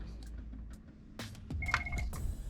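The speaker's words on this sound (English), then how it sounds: "I have to answer the phone." A telephone rings in a medical resident's quiet indoor setting, a brief steady electronic tone with a faint overtone sounding alone for about half a second near the end of a low background hum.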